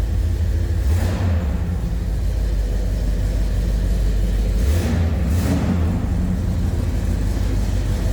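A 1971 Oldsmobile 442 convertible V8 rumbles steadily and loudly close by, blipped twice into short deep revs, with no talk.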